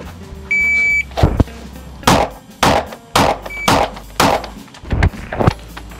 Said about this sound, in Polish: Dobycie i 5 strzałów do 5 kółek.